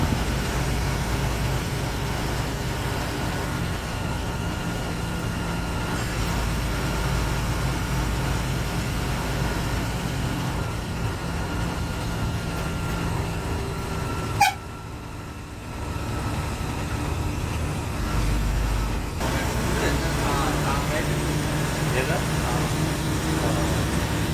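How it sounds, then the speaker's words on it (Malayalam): A Kallada bus on a Bangalore to Trivandrum run carries a steady, loud engine drone and road rumble inside the cabin throughout, with a brief clunk midway and a short dip before the hum resumes. "നല്ല എഞ്ചിൻ്റെ സൗണ്ടും കാഴ്ചകളും നിങ്ങൾക്ക് അനുഭവിക്കാം."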